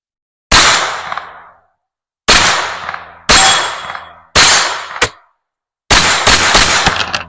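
Beretta 950 Jetfire .25 ACP pocket pistol fired outdoors, seven sharp loud shots: four spaced single reports followed by a rapid string of three, each with a short ringing decay.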